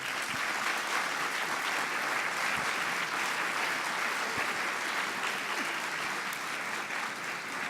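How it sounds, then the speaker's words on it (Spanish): An audience at a 2016 theological colloquium applauds with steady, sustained clapping that fills the room for several seconds and has no talking over it. "Vamos a darle un aplauso."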